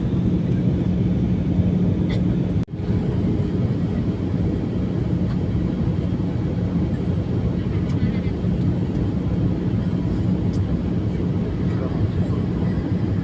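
Steady broadband cabin roar of an airliner on landing approach, a constant loud engine and airflow rumble with a low hum throughout and one brief dropout near the start.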